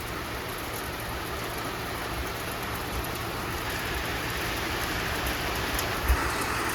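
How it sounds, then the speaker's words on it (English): A heavy rain downpour falls outdoors at night beside a giant pumpkin patch, a dense steady hiss that holds at an even loudness throughout, with one soft thump near the end. "it's coming a downpour, buddy. I mean, listen at it."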